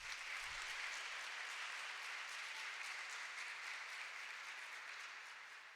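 Congregation at Mass welcoming a priest with a round of applause, steady even clapping heard at a distance and fairly faint, tapering slightly at the end.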